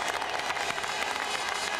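A large crowd at the 2001 Italian Grand Prix cheers and applauds after Juan Pablo Montoya's first Formula One win, a dense, steady roar of clapping and voices filling the air.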